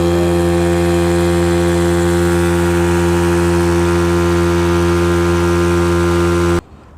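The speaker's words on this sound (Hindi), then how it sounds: "सबसे पहले आपको इंजन को स्टार्ट करना है, और आप देख सकते हो कि इंजन स्टार्ट हो गया। उसके बाद आपको कुछ रेस देना है।" A used car's engine runs steadily during a pre-purchase check, a loud continuous drone with strong low harmonics that holds for about six and a half seconds before cutting off abruptly.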